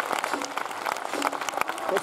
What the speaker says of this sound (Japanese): さあ拍手をしましょう。